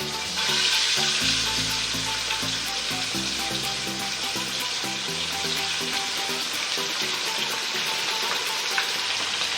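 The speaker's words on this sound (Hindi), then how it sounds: "डायरेक्ट हमने इसको ऑयल में डालना है। ऑयल हमारा गर्म हो चुका है" Spicy chicken drumsticks sizzle steadily in hot oil over a medium-to-low flame, a loud continuous frying hiss with crackling throughout.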